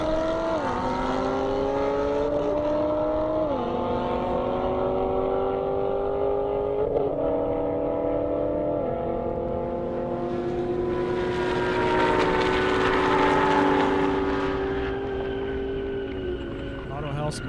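An Audi R8 and a Corvette Z06 race side by side down a half-mile airport airstrip, engines revving hard with stepped gear-change pitch drops, then swelling into loud roaring wind and engine noise near the end, with announcer-style talk over it.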